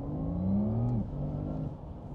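Porsche Taycan GTS Sport Turismo electric motor whines up in pitch while accelerating, then drops as the two-speed gearbox shifts around 75-80 km/h, a smooth steady hum continuing afterward.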